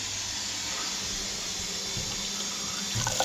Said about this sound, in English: I think it's going to go, isn't it? It's going to flush.